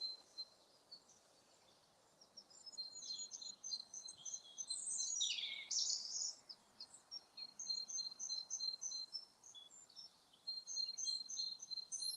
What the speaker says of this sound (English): Another robin. Sorry, let's listen to the robin.